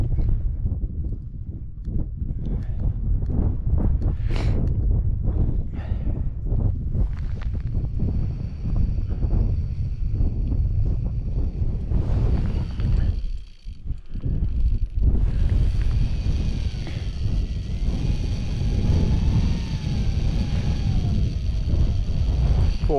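Strong wind at a Lake District wild camp, gusting continuously and buffeting the microphone with a deep, rough roar that barely lets up.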